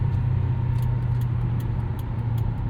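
A 2003 Mercury Marauder V8 sedan engine idles with a deep, steady rumble, constant and close, with faint light ticking above it.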